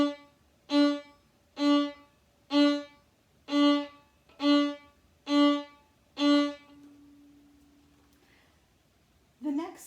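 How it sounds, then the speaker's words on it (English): Violin played in short, detached staccato notes from the Suzuki piece Allegro: seven evenly spaced bowed notes, clear and close, followed by a held tone fading out and a brief new sound at the end. "So staccato sounds like this"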